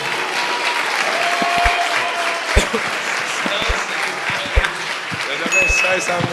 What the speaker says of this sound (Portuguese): Aplauda o nome santo do Senhor Jesus